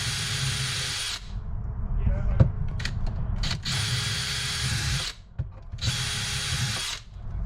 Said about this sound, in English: I'm gonna drill some holes.